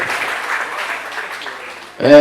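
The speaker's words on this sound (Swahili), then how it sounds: "Tushangilie kwa makofi na vigelegele." An audience at a college gathering claps in a broad, steady wash of applause, then a high trilling ululation cuts in loudly near the end.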